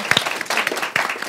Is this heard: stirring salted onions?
no